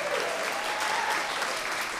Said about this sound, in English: would you please give a big hand for Janice?